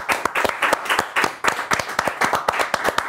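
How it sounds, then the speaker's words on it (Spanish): Audience applause for Marita on an Argentine comedy show, a burst of loud, close individual claps in an uneven rapid rhythm, sustained alone throughout. "Un aplauso para Marita."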